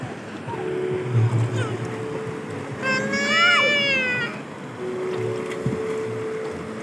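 Sea waves wash steadily around a small boat on clear water, a broad continuous rush of noise, with a brief high, wavering cry like a meow partway through.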